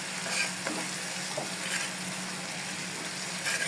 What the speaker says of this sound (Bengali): দিয়ে কিছুক্ষণ কষাবো